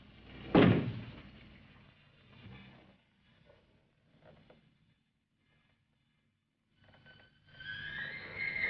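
A single sharp knock lands on a closet door early on, then quieter shuffles and creaks from a 1962 horror film scene, with a soft hiss building near the end.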